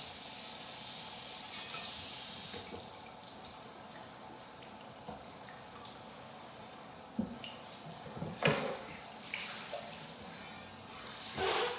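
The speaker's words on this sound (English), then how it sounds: "I'm gonna rinse my KitchenAid mixer out" A KitchenAid mixer bowl rinsed under a running kitchen tap, a steady hiss of water with occasional louder splashes and clanks of the bowl near the end.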